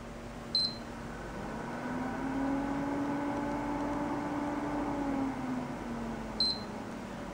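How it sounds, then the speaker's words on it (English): Two short, high electronic beeps a few seconds apart from an original fat PS3 console's held power button, over a steady low hum that swells in the middle. "held it down until it beeped"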